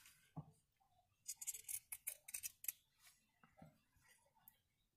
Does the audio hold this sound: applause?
no